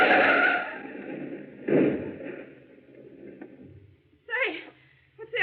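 In a radio drama, a car skids as it is forced off the road, opening with a loud tire screech that fades, then a second shorter squeal and a softer rumble, ending with brief voiced sounds.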